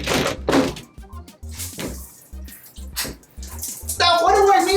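Hot water from an Aqua-Hot heated RV shower runs in bursts with knocking thumps, then flows steadily and louder near the end, with a person speaking over it.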